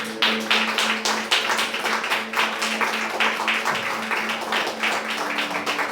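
Steady rhythmic hand clapping from a church congregation at an Easter Sunday service, continuous and fairly loud, with a sustained tone humming underneath throughout.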